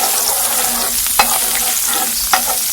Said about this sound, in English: I'm going to brown 2 tablespoons of margarine here.